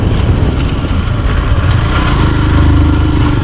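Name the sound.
Honda Dream Yuga motorcycle engine straining uphill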